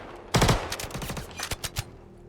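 Behring P8 submachine gun in Star Citizen fires a loud close burst, followed by several short rapid volleys, each shot crisp and distinct, tapering off near the end.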